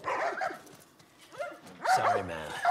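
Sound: dogs barking, from video game The Last of Us

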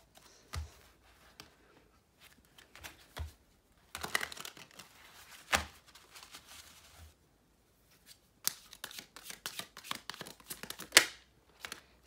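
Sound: tarot cards being shuffled

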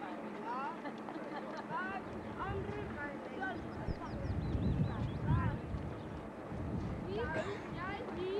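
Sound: ducks quacking

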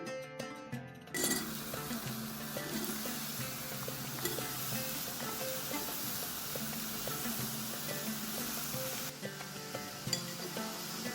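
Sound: ridge gourd pieces sizzling in pan with ginger garlic paste

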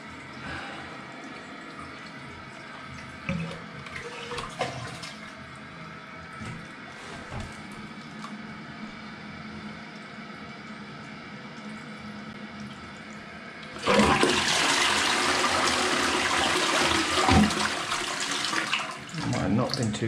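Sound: toilet cistern flushing and refilling with water

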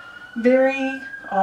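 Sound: sirens in the background

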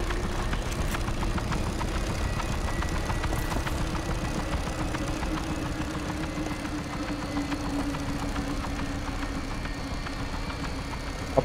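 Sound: car engine running in the video game RAGE

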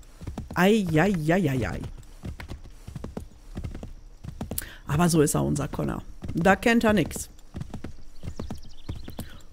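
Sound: horse hooves clip-clopping in Assassin's Creed III video game

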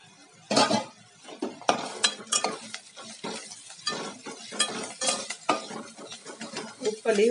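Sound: frying onions and curry leaves in oil in a pan

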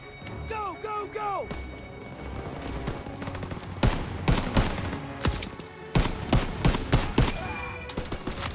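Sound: machine gun fire in a WWII video game

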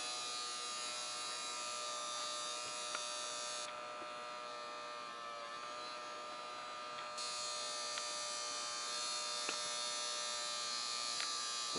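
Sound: small electric motor running

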